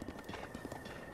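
Horse hooves clip-clop in a steady, quick galloping rhythm while riding in Zelda: Breath of the Wild, moderately loud over a constant thin high tone and faint game ambience, with no voices.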